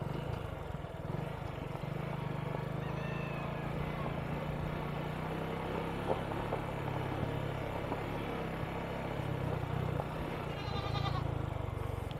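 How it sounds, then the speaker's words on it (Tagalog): Goats bleat now and then over a steady low engine rumble on a rough road near the sea in Sitio Lacguit, Barangay Tupa, with faint outdoor background noise throughout. "Dito ang mga kambing."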